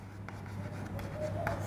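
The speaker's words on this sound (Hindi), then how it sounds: "लिखेंगे इक्वेशन" A pen writes an equation by hand, producing soft, continuous scratching strokes close by over a steady low hum, with a few brief tapping accents and no talk.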